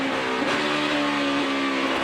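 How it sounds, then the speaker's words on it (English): NASCAR Sprint Cup stock car engine during qualifying, a steady buzzing drone with slight pitch shifts from small throttle blips on a downshift, heard at a distance with no voices. "See how they use that throttle just a little bit so it makes that shift smooth when they're doing that downshift."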